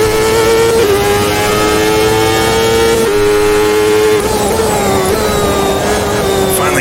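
CART race car engine in a racing video game, screaming loud and close at high revs, its pitch dropping sharply at each quick gear change before climbing again, with no talk.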